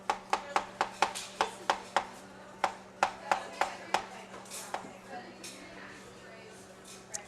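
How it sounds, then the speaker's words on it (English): Bananas sliced on a cutting board for a banana split pie, a quick run of crisp knife taps against the board, evenly spaced and close, then slowing and fading out. "now we're going to slice the bananas up"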